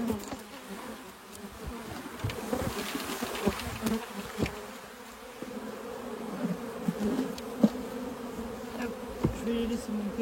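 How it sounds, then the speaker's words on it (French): A dense, steady drone of many honeybees buzzing close by inside a hive, a continuous hum with individual bees flaring louder now and then. "Il y a encore pas mal d'abeilles à l'intérieur."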